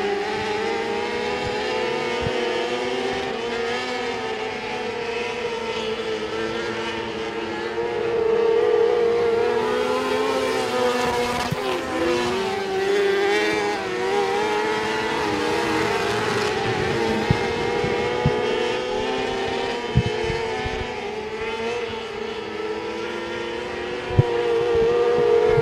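Race cars lapping the oval at Sabine Speedway during a regular race program, engines droning loudly and continuously with rising and falling pitch as the pack passes, a steady roar throughout with no voices.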